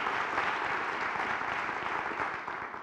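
A studio audience at a talk show breaks into dense, sustained applause, a loud even wash of many hands clapping that fades slightly near the end, with no voices over it.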